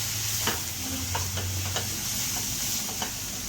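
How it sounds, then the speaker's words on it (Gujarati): Dal tadka sizzles in a pan as coriander-cumin powder and red chilli powder are stirred in, giving a soft steady hiss broken by a few scraping spoon strokes. "બધું મિક્સ કરી દઈશું."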